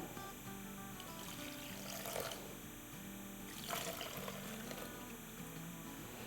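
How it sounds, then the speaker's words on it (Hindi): A cup of water is poured into a thick potato dosa batter, giving faint splashing pours in two soft swells over a quiet, steady background. "और अब इसमें हम डालेंगे 1 कप पानी"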